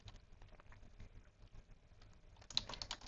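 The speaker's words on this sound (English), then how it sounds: "I'm just going to type in" Soft, rapid keystrokes tapped on a computer keyboard, quiet and close, with a slightly louder burst of clicks near the end.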